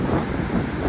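Wind gusting over the Black Sea shore at Lazarevskoe in stormy winter weather, with a broad steady rush of wind noise on the microphone and the low roar of dirty, rough waves behind it.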